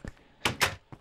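A door closes in the FNaF Help Wanted video game, heard as two quick, solid thumps close together followed by a lighter knock, all brief and near.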